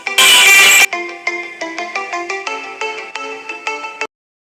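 A phone ringtone plays loud and alone: a short burst of noisy static opens it, then a bright repeating electronic melody of stepped notes pulses steadily for about three seconds before cutting off.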